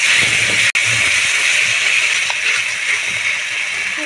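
Spice paste (masala) is fried in a pan until the oil separates, giving a loud, continuous hissing sizzle that holds steady throughout, broken only by a single momentary dropout near the start.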